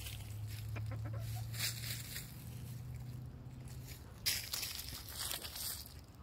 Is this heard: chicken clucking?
yes